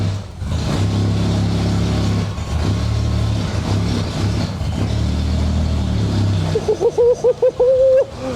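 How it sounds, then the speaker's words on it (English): A V12 Jaguar XJS engine runs loud and close after a long-awaited start, holding a steady, rumbling idle throughout, with a choppier, wavering tone in the final seconds. "It runs! The XJS runs!"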